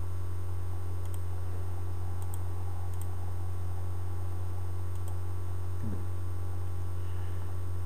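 Sparse, faint computer mouse clicks in a report editor, spaced about a second apart over a constant loud electrical hum.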